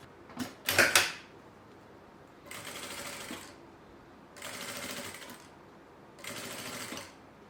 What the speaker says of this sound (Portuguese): vou fazer aqui a minha costura de pesponto, a costura de acabamento